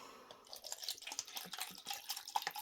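Water trickles and drips into a small cup holding rooted rose cuttings, a light pour of close splashes and drips with no one talking.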